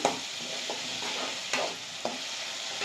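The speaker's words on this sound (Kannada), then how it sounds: "ಈರುಳ್ಳಿ ಬಾಡಿದ್ದೆ ಟೊಮೆಟೊ ಹಾಕೊತೀನಿ ಮೂರು ಟೊಮೆಟೊ ಹಾಕಿದ್ದೀನಿ ಟೊಮೆಟೊ ಸ್ವಲ್ಪ ಬಾಡಿ" Tomatoes and onions sauté in a pan for a chicken curry, giving a steady soft sizzle with a few sharp stirring scrapes at intervals and no talking.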